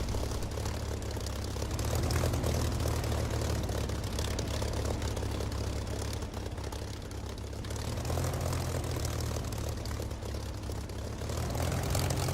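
A propeller aircraft in the DCS flight simulator drones loud and steady through a takeoff run, its engine roar constant with slight rises and dips in pitch and no other sounds breaking through.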